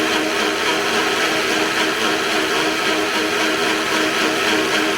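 A blender whirs steadily at high speed, a loud, continuous grinding whine with no talking over it.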